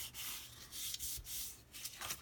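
Bone folder burnishing a folded paper crease for a mini folio, a soft steady rubbing and sliding sound in repeated strokes, close and quiet, with no talking.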